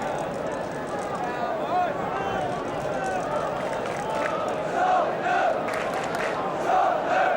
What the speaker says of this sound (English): A long time since they've had a crowd quite as big as this at White Hart Lane.